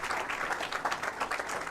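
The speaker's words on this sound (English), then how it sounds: "give a big round of applause" Audience applause at a junior U18 bowling stepladder final, a steady, dense wash of clapping filling the hall without pause, moderately loud and continuous with no clear voices above it.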